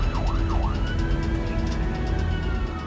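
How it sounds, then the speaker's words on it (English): A wailing Australian ambulance siren rises and falls rapidly over steady road and engine rumble, loud and close, with no speech. "we're just going to put the sirens on to make people move out of our way"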